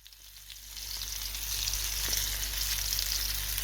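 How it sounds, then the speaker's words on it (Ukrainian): Fish frying in a pan, a steady, bright sizzle that swells in the first second and then holds loud and constant, with no voices. "На обід смажу собі рибку."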